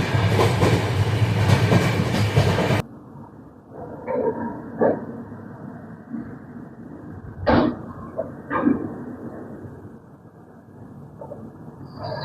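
Saraighat Express passenger train running on rails between Howrah and New Jalpaiguri, starting with a loud rumbling roar that drops to a steadier hum inside the carriage, with occasional knocks and clacks.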